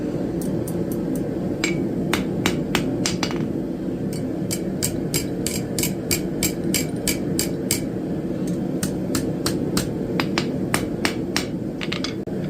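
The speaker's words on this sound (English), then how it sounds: "Finish it up with the hammer." Sharp metallic hammer strikes on copper and steel at a forge ring out in a steady, fast rhythm over a constant low roar, dozens of close blows with short pauses between runs.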